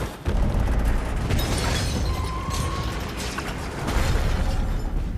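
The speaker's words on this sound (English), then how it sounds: "Yeah, first explosion!" An explosion in the film Transcendence: a deep, rumbling boom erupts and rolls on with a sustained roar, loud and broad, with crackling debris under it.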